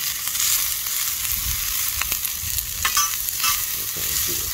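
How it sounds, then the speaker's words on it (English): Onions sautéing in butter on a grill, a steady crackling sizzle with occasional stirring scrapes, close and continuous. "we'll start the saute game here"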